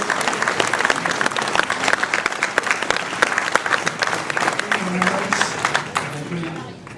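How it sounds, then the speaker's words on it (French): Warm, sustained applause fills the room at a mayor's New Year reception in Ouistreham, France, as a staff member comes up for a medal; crisp individual claps stand out, voices murmur underneath, and it thins toward the end. "Je crois qu'on peut l'applaudir et la remercier pour le travail qu'elle fait."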